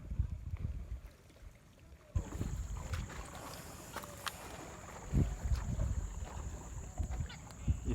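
A fiberglass sampan travels across open water near a reef, its quiet motor and water wash steady and close, with bursts of wind buffeting the microphone.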